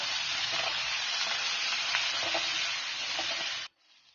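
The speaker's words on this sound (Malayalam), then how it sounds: "വേപ്പില ഇട്ടതിന് ശേഷം നമുക്ക് സവാള ഇട്ട് കൊടുക്കാം. നല്ലപോലെ ഇളക്കുക." Sliced onions and curry leaves fry and get stirred in a hot pan, giving a steady loud sizzle with faint scraping stirs, then the sound cuts away abruptly near the end.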